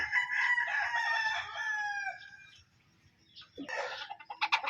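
A gold street comb gamecock on a farm gives one clear, close crow, followed after a short pause by sharp clucks and squawks.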